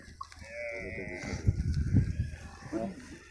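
A herd of Tharparkar cows, low lowing and rumbling animal sounds close by, mixed with a person's voice and outdoor farm noise.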